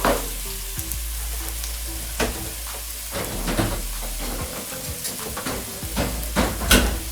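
Garlic and chicken stir-fried in a pan, with a steady loud sizzle and frequent scraping, clattering stirs throughout; a voice briefly speaks over it.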